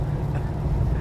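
An American muscle-style classic car with a four-speed gearbox idles gently while warming up, giving off a steady, close, low engine rumble with no breaks.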